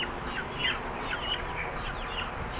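Broiler chickens unloaded from a delivery vehicle at a shop at night, many birds clucking and chirping in scattered short calls over a constant rumbling background, no voices.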